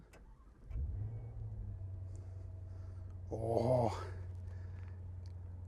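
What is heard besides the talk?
Maserati Levante Trofeo engine starting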